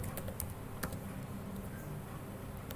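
Quick, light keystrokes on a computer keyboard, a steady patter of soft clicks with a few sharper taps over a faint hum, close and without talk.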